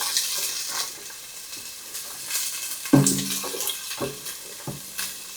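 Onions sauteing in a pan, giving a steady soft sizzle broken by a few louder scrapes and clatters as the pieces are stirred.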